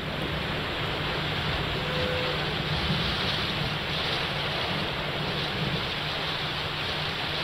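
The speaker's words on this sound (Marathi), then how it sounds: "मुंबईत गेल्या 2 दिवसांपासून मुसळधार पाऊस आहे" Heavy monsoon rain pours down in Mumbai near the Siddhivinayak metro station, a loud, unbroken roar of rainfall with no voices.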